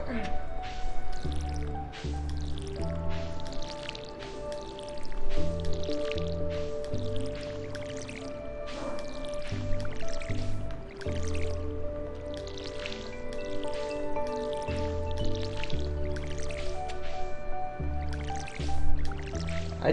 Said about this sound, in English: Okay, let's water everything.